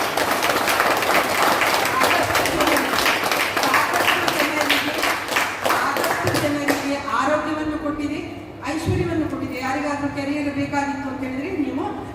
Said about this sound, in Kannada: ಜೋರಾದ ಚಪ್ಪಾಳೆ ಒಂದು ಬರಬೇಕು